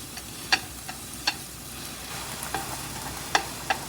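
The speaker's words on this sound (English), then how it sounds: "I put the noodle inside the pan, put some vegetable oil, put some pepper sauce on it, and then that half fry a little bit." Ramen noodles pan frying in vegetable oil with pepper sauce, a steady soft sizzle broken by several sharp clicks and pops of a utensil against the pan, spaced irregularly across the clip, with no talking.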